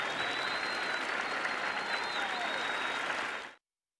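A large arena crowd in the game Colosseum: Road to Freedom applauds and cheers in a dense, steady roar that holds loud for several seconds and then cuts off abruptly into silence.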